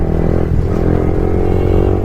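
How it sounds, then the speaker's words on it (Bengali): A motorcycle fitted with an aftermarket full-system exhaust is ridden on the road. Its loud, continuous low rumble stays close and steady throughout. "রোডে আজকে পুরো আওয়াজ শোনো, শুধু এক্সজস্ট নোট।"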